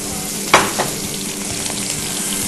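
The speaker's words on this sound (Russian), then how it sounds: "И в этой же сковороде обжариваем быстренько лук до полуготовности" Onion fries quickly in a skillet with a steady close sizzle, opened by a sharp stir or drop and a second softer scrape, then a continuous crackle with no talk.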